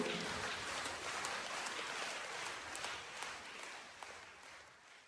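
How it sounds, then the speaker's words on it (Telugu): A crowd at a church event in Kurnool diocese applauds steadily, a dense wash of many hands clapping at a distance, sustained and even throughout. "మరి గట్టిగా చప్పట్లు కొడుతూ"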